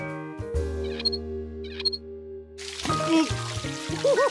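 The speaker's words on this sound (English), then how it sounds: "Turn on the water, George, and see what happens." A shower is turned on in a children's cartoon. After a few seconds of light music, a steady hiss of running water begins and continues under the playing music.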